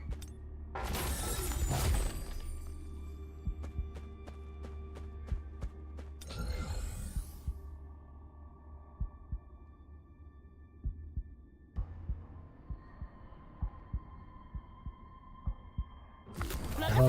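A heartbeat effect plays in the Solo Leveling: ARISE video game, a slow run of soft repeated thumps over a low hum, framed by brief louder bursts of game sound.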